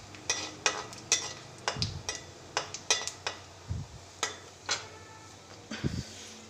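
Cumin and dried chillies are stirred in a pan with a run of close, regular scraping taps roughly every half second over a faint background sizzle.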